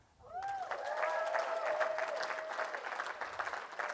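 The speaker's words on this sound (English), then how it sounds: "So round of applause." Applause and a few cheers from the audience at a stand-up comedy show at a writers' workshop, rising quickly after a brief quiet and holding as a steady crowd clapping.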